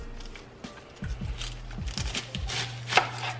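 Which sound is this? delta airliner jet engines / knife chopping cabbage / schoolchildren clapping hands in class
knife chopping cabbage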